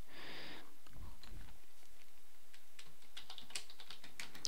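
Someone types code on a computer keyboard, giving a short burst of light, close key clicks after a brief rustle.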